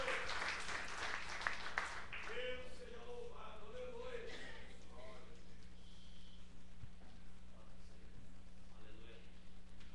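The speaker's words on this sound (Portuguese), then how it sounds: "Mas aplaude o Mestre Jesus." A church congregation claps along during a Portuguese-language service, a burst of clapping at the start that blends with voices and fades into a murmur over a steady electrical hum.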